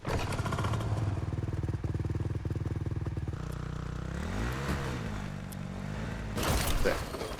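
A motorcycle engine in Fortnite chugs steadily with a fast, pulsing rhythm, then shifts pitch as it revs and changes speed. The engine stays close and fairly loud throughout, with a sharp clatter near the end.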